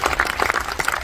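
Audience applause at a VIP screening of a concert film: a short burst of dense, steady clapping from a crowd, fairly close and filling the whole moment.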